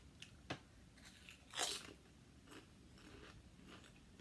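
Crisp crunching of chips being bitten and chewed, a few sharp bites followed by softer chewing, close up with no talking.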